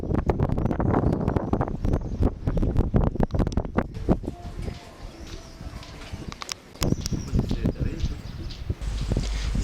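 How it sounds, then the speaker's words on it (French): Strong wind buffeting the microphone on the ramparts of a hilltop walled city, gusting in loud irregular bursts, with a voice speaking at times in between. "Il y a du vent sur les remparts."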